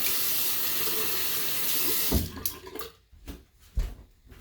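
Water runs loudly from a tap while a shaving brush is rinsed out, a steady close gush that breaks into splashes and intermittent bursts as the flow is interrupted.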